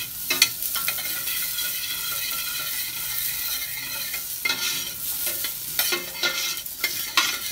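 Ginger and onions saute in a pot for bulalo, with a loud continuous sizzle broken by repeated scraping, clattering stirs of a utensil against the pot.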